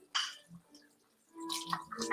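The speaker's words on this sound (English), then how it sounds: "All right, I'm going to put my tomatoes in." Tomatoes dropped into a pot of boiling quinoa vegetable soup give wet plops and splashes, a brief splash early on, then a longer burst of bubbling and sloshing, close by.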